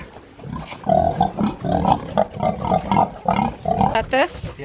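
A piglet on a homestead squeals loudly and repeatedly while being given medicine, a run of harsh, close, pulsing cries that rise into a shrill squeal near the end, with a person's voice mixed in.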